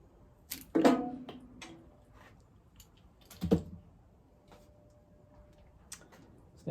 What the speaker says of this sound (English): So I am going to cut the hose again.